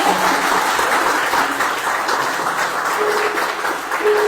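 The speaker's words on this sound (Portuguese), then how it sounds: "Aplaude a palavra de Deus" A church congregation claps during a sermon, sustained dense applause from many hands filling the room at a loud, even level for several seconds.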